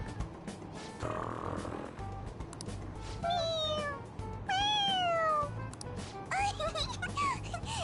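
A cat meows several times in the video game Persona 5 Royal, with rising and falling cries over game background sound.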